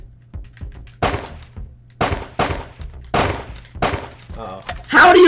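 Gunfire in the video game Screencheat, several sharp shots spaced about a second apart with a louder burst at the end, while players talk over the game audio.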